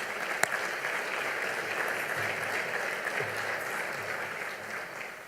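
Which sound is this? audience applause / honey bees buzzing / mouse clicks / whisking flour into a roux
audience applause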